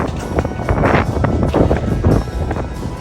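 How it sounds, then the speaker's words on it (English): Strong wind buffets the microphone in loud, gusty rumbles that rise and fall continuously for a few seconds, outdoors in San Francisco. "Then it got so windy, I turned around and was like, I'm out of here."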